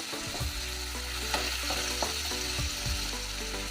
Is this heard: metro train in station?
no